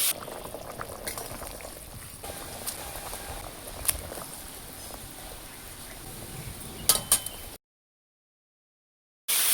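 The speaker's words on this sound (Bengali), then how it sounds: "ঝোল ফুটলে মাছ দেবে, দিয়ে আটটু ফোটাই।" Fish curry gravy with katla fish bubbling at a steady boil in a pan, continuous soft popping and patter with occasional louder blips, close up, then a brief silence before the sound resumes.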